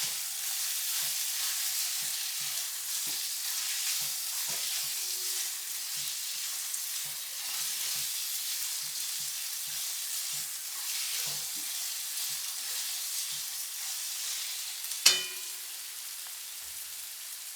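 Chopped onions fry in oil for Gujarati eggplant bharta, giving a long, even, rain-like sizzle with soft intermittent stirring taps and one sharp clink of a utensil near the end, close by with no speech.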